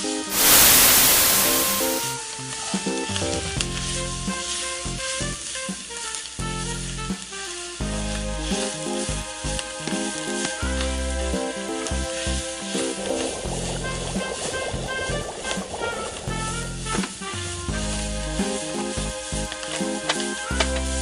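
Water poured into a pan of spiced food seasoned with chili powder gives a loud burst of sizzling at the start, then the pan is covered and music plays over the rest.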